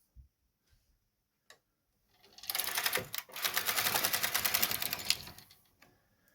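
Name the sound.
knitting machine carriage knitting a row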